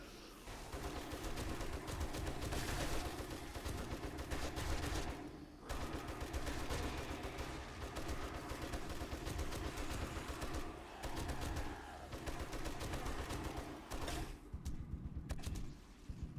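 Heavy gunfire rattles in the video game 7 Days to Die as big guns fire in dense, sustained bursts with only brief pauses.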